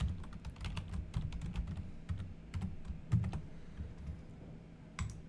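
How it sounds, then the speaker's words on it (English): Someone types a password on a computer keyboard, with quick, irregular clicks coming close together for several seconds over faint room hum. "I'm going to put in my password that I'm creating right now for this"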